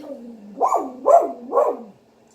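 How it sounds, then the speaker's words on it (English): A dog barks three times in quick succession, close and fairly loud, each bark a rising, whining yelp indoors, with no talk over it. "Dog."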